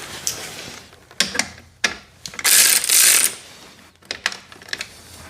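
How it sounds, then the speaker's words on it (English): A ratchet loosens the muffler clamp on a Kawasaki KLR 650 with a Leo Vince X3 muffler, giving sharp close clicks in short bursts and then a longer ratcheting whir, with brief pauses between strokes. "So I'm actually going to loosen that clamp a little bit so I can rotate it."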